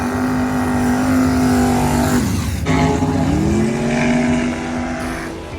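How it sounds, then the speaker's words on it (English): A Chevy Nova drag car makes a pass down a drag strip. The engine holds a loud, steady drone, dips briefly at a gear change, then climbs again, alone without voices. "Billy brought his Nova up to make his first pass."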